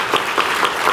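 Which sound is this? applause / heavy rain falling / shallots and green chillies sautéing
applause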